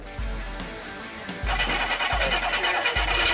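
An old fire engine's engine is being started, cranking with repeated thumps before it catches into a rough, uneven running clatter that grows louder partway through.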